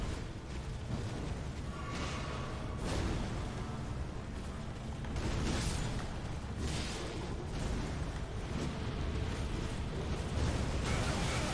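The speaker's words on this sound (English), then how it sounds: "Explosion, yeah." Explosions in the video game Elden Ring during a boss fight against Maliketh, repeated heavy booming bursts over a dense, rumbling battle din.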